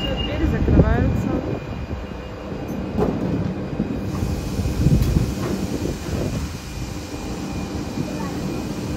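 A České dráhy CityElephant passenger train in Czechia pulling away from a platform, a steady loud rumble and rolling rail noise with brief squeals, while people talk nearby.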